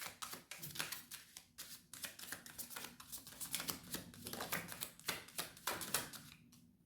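Tarot cards being shuffled and pulled from a deck, a close, quiet run of rapid riffling snaps and soft flicks with brief pauses, no voice over them.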